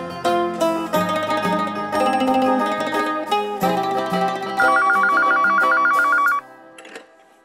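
A telephone rings with a rapid, repeating electronic trill that cuts in clearly for about two seconds, layered over a busy musical score in a domestic TV drama scene; no one talks.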